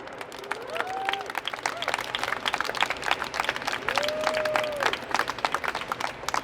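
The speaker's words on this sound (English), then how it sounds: "Please give yourselves a big round of applause." A crowd claps at an outdoor rally outside DEFRA, scattered and fairly sparse, with a few whoops and voices rising over the claps.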